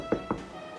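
Two sharp knocks on a door, roughly a fifth of a second apart, sound fairly close in a quiet indoor room with a faint hum behind them.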